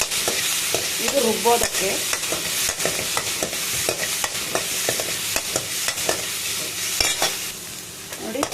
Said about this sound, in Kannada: ನಂತರ ಅರ್ಧ ಟೊಮಾಟೊ ಎಲ್ಲ ಹಾಕಿ ಲೈಟಾಗಿ ಹುರ್ಕೊಳ್ಳೋಣ